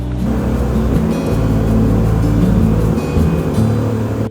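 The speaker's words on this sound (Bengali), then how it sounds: "সবাই উঠে পড়া মাত্রই বোট ছেড়ে দেয়া হলো" Speedboat leaving on an island-hopping day trip around Phuket and Phi Phi Island, its engine rumbling loud and close in a continuous low drone that swells slightly as the boat gets under way.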